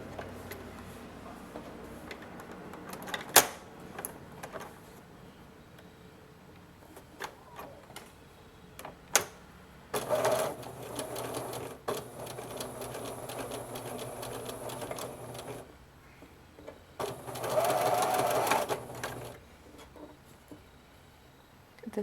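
A sewing machine stitches child boxer brief fabric in two bursts of rapid, even whirring, separated by quiet pauses with scattered clicks and handling taps nearby.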